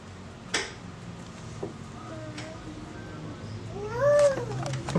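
A young child imitates a cat's meow, a short rising-falling vocal near the end, following a few small clicks and snaps in a quiet indoor room.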